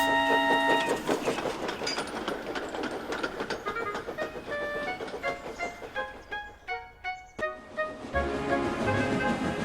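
A traction engine puffs away in a steady rhythmic chuff that rolls along loud and close, fading briefly before building again, with a faint whistle-like tone riding over it.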